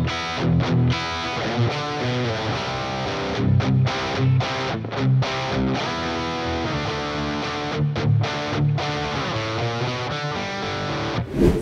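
A distorted electric guitar plays the chorus riff of a song, with rhythmic chugging chords and short muted breaks, loud and close, with no talking.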